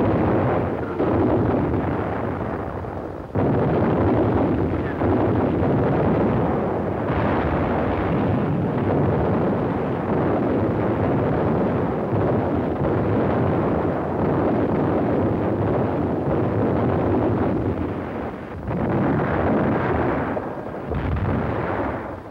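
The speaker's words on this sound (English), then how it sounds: "long-range guns hurled ton after ton of high explosives into the heart of the city" Long-range guns shell the heart of a city with high explosives, a dense, loud, continuous roar of blasts and rumbling barrage with only brief dips between waves.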